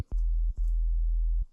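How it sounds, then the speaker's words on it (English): A pure low synthesizer sine wave tone, sounded as two sustained steady hums, a short one and then a longer one, each starting and stopping cleanly with soft clicks, with nothing else heard. "if I take just a sine wave,"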